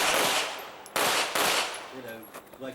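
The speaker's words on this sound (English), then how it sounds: "Turn, draw, and engage 3 targets." Rapid pistol fire at an IDPA shooting match: a close, loud string of sharp shots in quick succession, then a brief gap and a second burst, with faint voices in the background.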